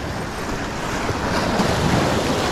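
Sea waves break along the shore where lure fishing takes place, a continuous close rush of surf mixed with wind buffeting the microphone, swelling slightly louder toward the end.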